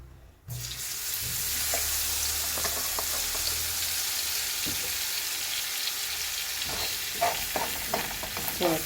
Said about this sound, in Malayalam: ഇനി ഇതിലേക്ക് നമുക്ക് കുറച്ച് സോർക്ക് ഒഴിച്ച് കൊടുക്കാം.